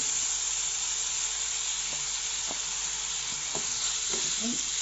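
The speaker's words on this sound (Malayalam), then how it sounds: "ഇനി അതിലേക്ക് വലിയ ഉള്ളി," Sliced big onions fry for a beef fry, giving a steady, close sizzle and hiss throughout with faint clinks of stirring.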